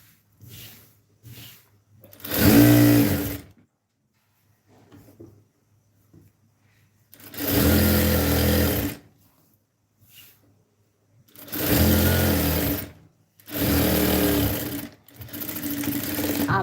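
A sewing machine stitches a seam in several loud bursts of a few seconds each, separated by quiet pauses with faint handling of the fabric.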